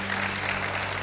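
Steady applause from a church congregation fills a short stretch, dense and continuous, with a low hum running underneath.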